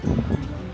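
Strong wind gusts buffet the microphone outdoors beside a light rail stop in Tuen Mun, Hong Kong, making a low, rumbling roar that swells and eases over a short stretch.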